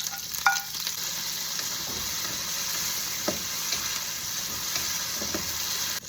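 Garlic and chili sizzle and fry in a pan for Cambodian prahok sauce, a steady close hiss with a few soft stirring clinks and scrapes, no talking.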